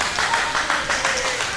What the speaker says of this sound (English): Crowd fired up behind Brother Azriel.